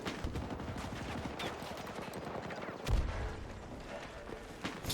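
Dense, continuous gunfire from a Battlefield 2042 firefight, rapid shots rattling throughout with a louder close burst near the middle, speech faintly mixed in.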